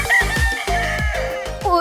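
Rooster of an imported Filipino breed crowing up close, loud and clear, with repeated harsh crowing calls and clucks in quick succession.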